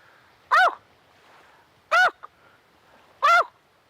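A man imitates the feeding calls of snow geese and blue geese by voice, three loud, separate, nasal honking yelps spaced over a few seconds against a quiet background.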